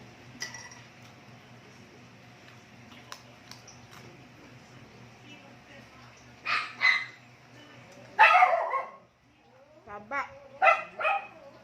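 A dog barks a few times at close range, short sharp yaps in small bursts over a quiet background hum with faint clinks.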